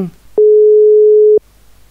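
A telephone call tone: one steady, clean electronic beep lasting about a second, loud and alone, with a brief bit of voice just before it.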